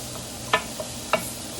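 Peppers with jerk seasoning cooking in a pan, a soft steady sizzle broken by two sharp clacks of a utensil against the pan, close, no talking.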